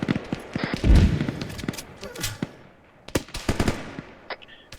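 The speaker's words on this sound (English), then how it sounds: "Mortar fire." Explosive mortar fire in a military video game, with a heavy thump near the one-second mark followed by scattered sharp bursts and cracks of gunfire, some near and some farther off, with brief voices in between.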